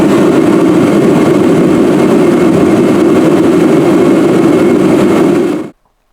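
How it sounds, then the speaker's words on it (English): A torpedo heater in a shop or job site running at full blast, a loud steady roaring whoosh with a low rumble underneath, held constant for several seconds before cutting off abruptly. "firing up your old Torpedo heater"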